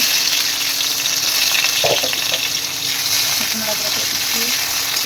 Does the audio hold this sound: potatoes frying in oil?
yes